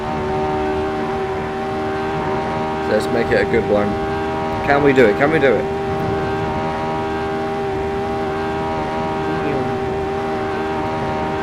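A Lotus 49 race car engine at Reims-Gueux in a 1967-era racing simulator holds a steady droning tone throughout, while someone talks over it in short bursts.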